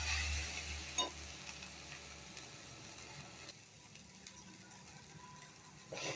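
Okra sautéed in a pan and stirred steadily to keep it from sticking. A faint, low sizzle runs under soft scraping and a couple of spatula taps, heard close with no talk.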